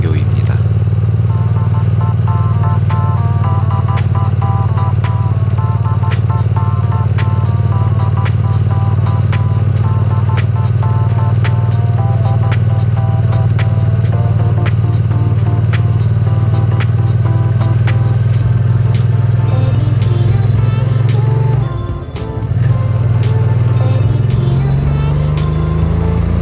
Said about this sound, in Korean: 인터셉터 650 같은 경우는 기어 미션 단수가 6단까지 있기 때문에 조금 더 여유롭게 가속력을 즐길 수가 있습니다.